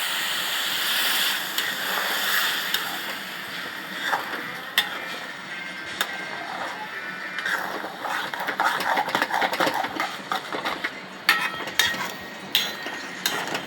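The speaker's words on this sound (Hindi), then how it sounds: "अब गोड़ वाला पानी डालना है" Jaggery water is poured into a hot pan and stirred, giving a close, rushing sizzle with scraping and clinking as the liquid hits the pan and is moved around; no one speaks.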